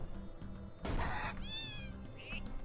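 Cartoonish cat meows from a video game, two or three rising, tonal mews over a looping music bed and game sound effects, moderately loud.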